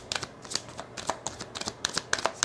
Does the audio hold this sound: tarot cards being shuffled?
yes